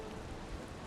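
Steady rain in the video game Valheim, a faint, even broadband hiss with soft low rumble, continuous and without voices.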